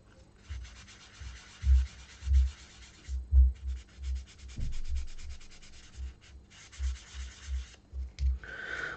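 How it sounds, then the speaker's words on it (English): A sanding sponge rubs over a plastic model kit part in short, rhythmic strokes, close and distinct, with brief pauses between passes and no talk. "Maybe I should go over it with the sanding sponge first."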